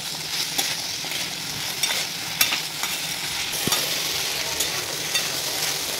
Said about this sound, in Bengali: তো আলুটাকে লাল লাল করে একটু ভেজে নিতে হবে মশলার সাথে।